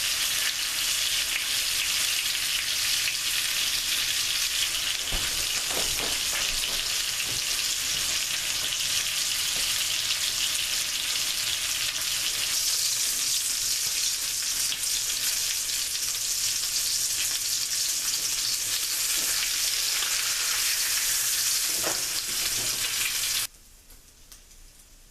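Salisbury steak patties sizzling and frying in a pan, a steady close crackle with occasional pops that stops abruptly near the end.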